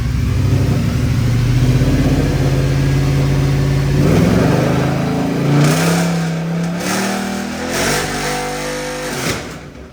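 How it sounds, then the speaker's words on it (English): A Mercedes C63 engine revving hard while one wheel spins, a loud, close, rising and falling roar with climbing pitch and a few throttle blips toward the end. "That wheel's spinning like mad, and this one's not moving much. Sounded cool though."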